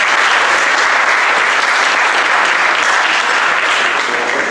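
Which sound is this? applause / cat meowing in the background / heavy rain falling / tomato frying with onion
applause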